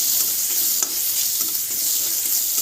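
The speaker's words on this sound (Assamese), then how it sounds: "তাৰপিছত পিঁয়াজ দি দিলোঁ, দি লৈ লৰাই লৈছোঁ।" Onion and garlic frying in a pan as they are stirred, a loud, close, steady sizzle with a couple of faint utensil taps and no speech.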